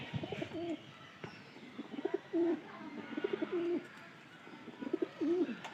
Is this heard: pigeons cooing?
yes